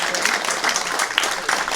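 Dense applause from an audience at a church forum, steady and fairly loud throughout, many hands clapping at once with no break.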